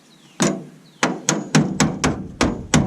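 A hammer taps a replacement car quarter panel into place before spot welding, striking metal seven times in close, sharp, unevenly spaced blows with brief ringing after each.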